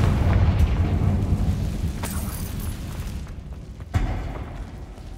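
A Confringo fire spell bursting in the Hogwarts Legacy video game, a dense rumbling blast that slowly fades, then a sharp smaller pop near the end.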